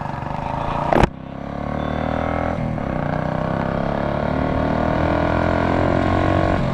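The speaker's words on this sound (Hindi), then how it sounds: "So let's turn on the bike. अरे अरे अरे, की ऑन, बाइक स्टार्ट हो गई" A Royal Enfield Classic 350 motorcycle engine starts with a sharp burst, then drones steadily and loud as it pulls up through the gears, its tone rising and shifting with each change, with no talk over it.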